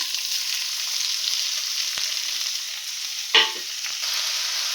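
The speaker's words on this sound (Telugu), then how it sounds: "ఉల్లిపాయ ముక్కలు, పచ్చిమిరపకాయ ముక్కలు వేసుకుందాం ముందు" Onion and green chili pieces hit hot tempering oil in a pan for a ridge gourd curry, producing a continuous bright hiss with one brief knock of the spoon midway; no voices.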